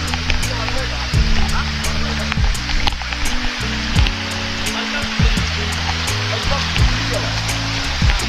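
Koodlu waterfall near Hebri gives a loud, steady rushing roar of falling water that fills the whole clip, with a person talking over it.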